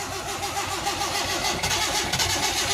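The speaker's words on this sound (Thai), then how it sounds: "คันนี้สตาร์ติดยากนะครับ" Vehicle engine that is hard to start, cranking and sputtering with uneven pulses before catching into a rough mid-pitched run, close by in a workshop.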